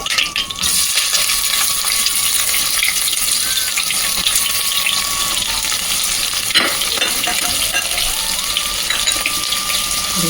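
Sliced onions with curry leaves and whole spices fry in hot oil for mutton paya curry, a loud, steady sizzle filling the whole stretch with faint clinks of a spatula and no talking.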